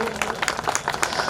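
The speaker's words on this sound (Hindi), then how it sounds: "एक जोरदार तालियां सबके लिए।" Quick applause at a Love Kush Jayanti 2023 celebration in Ashoknagar, a short burst of many hands clapping, brisk and close, with a voice mixed in briefly.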